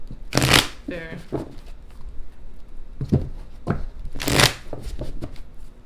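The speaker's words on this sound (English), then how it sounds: "Okay, shuffle, come on." Tarot cards are shuffled in several quick, close riffling bursts with short pauses between them, and a voice speaks briefly between shuffles.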